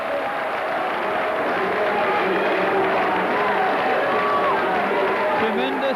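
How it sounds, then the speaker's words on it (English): A large rugby league crowd roars and cheers as the final hooter sounds on a championship-winning match, a steady wall of distant stadium noise with a commentator's voice talking over it. "Tremendous cheer."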